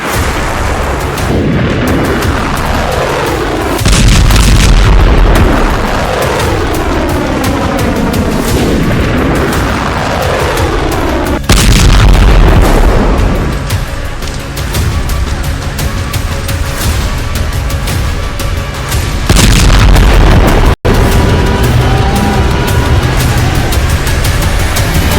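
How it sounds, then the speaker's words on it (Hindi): A loud series of heavy booms and rumbling blasts from a Hezbollah missile strike on Israel near Haifa, with long rolling echoes between the impacts. "इजराइल पर हिजबुल्लाह की फादी मिसाइल गिरी"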